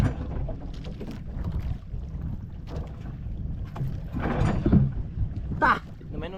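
A boat engine on open water cranks and catches, its low rumble mixed with wind and splashing while people talk nearby.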